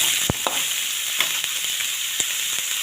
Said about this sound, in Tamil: நான் எண்ணெய் சேர்த்து அதை நல்லா வதக்கிக்கணும்